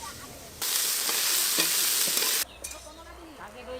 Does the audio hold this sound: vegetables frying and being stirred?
yes